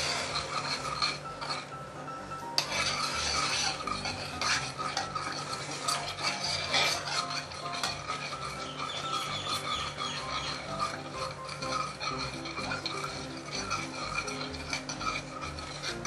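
Braised pork belly ingredients are stirred in a ceramic pot, giving a steady, close scraping and rasping of a utensil against the pot that continues without pause.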